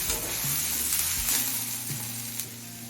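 Brinjal and other vegetables fry in a pan over a medium flame for a pui metuli dish, giving a continuous close sizzle with several soft utensil knocks and scrapes, no speech.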